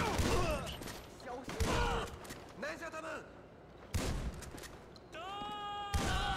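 Shotgun blasts in Grand Theft Auto V ring out as several sharp, loud shots spaced across the stretch, mixed with game voices and tonal in-game sounds.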